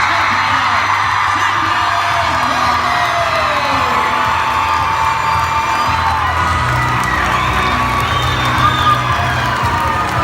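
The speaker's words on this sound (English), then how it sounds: "Let's give them a round of applause one more time" A large crowd cheers, whoops and shouts loudly and continuously for the three-time state champion cross-country team at a high school pep assembly, with children's yells rising over a dense roar.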